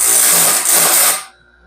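A grinder bites steadily into a stellite weld tooth on a saw band for a Norwood HD36v2 sawmill, a loud close whine holding for about a second before abruptly winding down.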